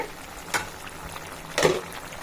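Tomatoes and tamarind cooking together for tomato pickle are stirred in a pan, with two distinct scraping strokes over a quiet background simmer.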